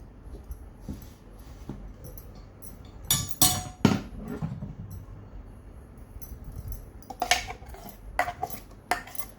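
Thick urad dal batter is scraped out of a grinder jar into a vessel, with sharp metallic clinks and knocks of spoon against steel in bursts between quieter scraping.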